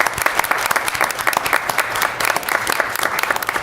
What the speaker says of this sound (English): let's have a big round of applause for the Norwood wrestling team